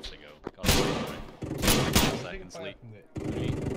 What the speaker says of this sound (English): Yeah, they're shooting.